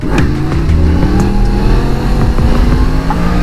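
A loud Yamaha MT-10 160 hp motorcycle engine drones steadily and close, with a roaring, revving growl throughout and no voices.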